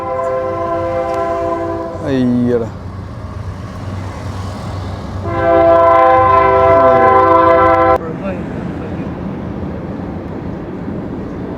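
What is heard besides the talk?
train passing through Lancaster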